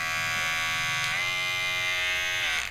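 A Kemei electric hair clipper, just switched on, runs with a loud, steady, close-up motor buzz. Its pitch dips briefly twice as the blades settle.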